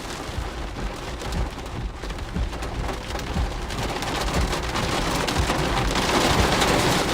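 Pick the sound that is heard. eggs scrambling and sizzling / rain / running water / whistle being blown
rain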